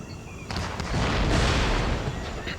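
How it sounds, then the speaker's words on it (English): Artillery shelling in Empire: Total War, a sudden loud blast that swells into a long rumbling roar of overlapping explosions, dense and close, with no talk over it. "We're being shelled by his artillery."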